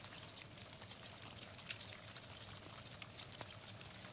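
Soft rain falls in a quiet, even patter with scattered light drop ticks, faint and continuous throughout with no voices.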